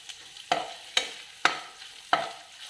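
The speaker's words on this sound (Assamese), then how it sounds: "এতিয়া আমি তেলত দি দিম আদা আৰু নহৰু সৰু সৰুকৈ কুটি থৈছিলোঁ সেইখিনি দি দিছোঁ" Chopped ginger and garlic sizzle softly in hot oil while a spoon scrapes the pan in four sharp, evenly spaced strokes, close and clear with no talking.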